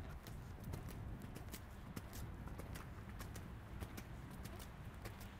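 Horse hooves during a riding lesson with jumps, a steady rhythmic clip-clop of a cantering horse on soft ground, moderately close and faint, with quiet talk in the background.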